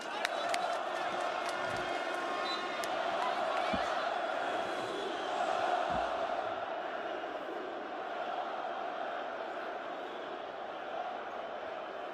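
Arena crowd at a Galatasaray versus Reyer Venezia basketball game, a steady roar of cheering and noise sustained throughout, with a few sharp bangs early on and voices mixed into the din.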